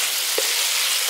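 Fried potatoes and green peas sizzling in spice paste in a pan for potato-pea curry, a close, steady hissing fry with one soft stir knock.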